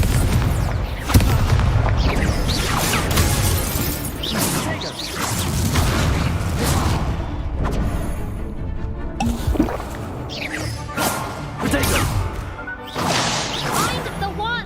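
Repeated Confringo fire spells burst during combat in Hogwarts Legacy, with booms, crackling impacts and magical effects layered over a busy game soundtrack as voices shout throughout.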